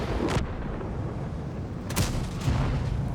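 A tank gun fires at a CS-53 in a tank battle video game, giving loud booming shots over a constant rumbling engine and battle background, with one blast early and two more close together near the end.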